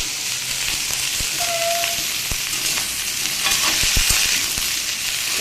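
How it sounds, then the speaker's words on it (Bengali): Cauliflower and potato with whole spices fry in a pan, giving a loud continuous sizzle close up, with sharp scraping knocks of a spoon stirring through it and no one speaking. "সবজিটাকে একটু আমি কিছু সময় ভেজে নেব।"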